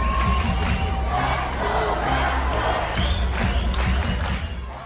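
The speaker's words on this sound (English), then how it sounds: "here's a Let's Go Raptors cue" Dense arena crowd at a Toronto Raptors basketball game, a loud sustained roar of many voices with rhythmic cheering pulses that fits a chant, steady throughout and fading slightly at the end.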